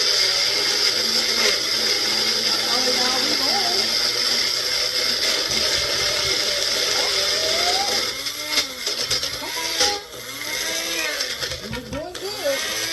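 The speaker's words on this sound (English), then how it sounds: "all we're gonna do is put it in our little blender here" A small kitchen blender whirs steadily while blending avocado for guacamole, its motor dropping and stuttering toward the end as it struggles with the thick mixture, with talking over it.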